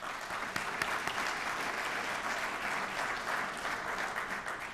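Steady applause from an audience at the Gaithersburg State of the City 2013 event, honoring the Kentlands 25th anniversary; dense clapping holds at an even level throughout, with no talk over it.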